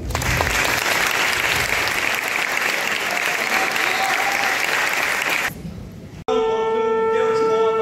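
Loud, dense applause from an audience at a charity concert in Svilengrad honoring a 15-year-old orchestra musician, steady for over five seconds, then fading abruptly as bell-like tones begin.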